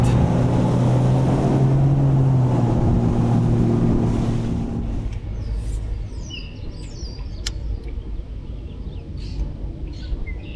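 A bass boat motor rumbles low and steady at idle on the Mississippi River at La Crosse, fading after a few seconds into softer engine drone with faint birdsong and water around.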